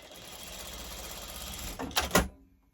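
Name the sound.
sewing machine stitching quilt fabric pieces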